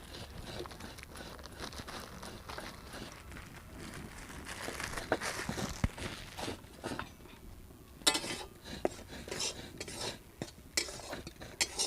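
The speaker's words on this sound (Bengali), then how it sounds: "ভাপা পুলি পিঠের জন্য আমি চালের গুঁড়িটা ভেজে নিচ্ছি" Rice flour dry-roasting in a kadai for Bengali bhapa puli pitha, a steady scraping and rustling of the spoon against the pan, with clinks and crackly stirring strokes growing busier toward the end, close and alone.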